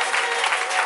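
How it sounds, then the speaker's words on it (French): A church congregation at a prayer vigil cheering and applauding to acclaim Jesus, a dense, loud wash of clapping and crowd noise filling the space without a break. "Est-ce qu'on peut acclamer Jésus?"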